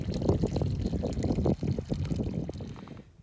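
Water from a spring beside a rugged hiking trail pours and trickles steadily up close, a busy splashing stream that cuts off near the end.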